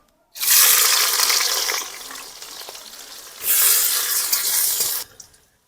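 Chopped onion hits hot oil already tempered with bay leaves and whole garam masala, for a home-style young jackfruit and prawn curry: two loud, close bursts of hissing sizzle with a short lull between them and no talking.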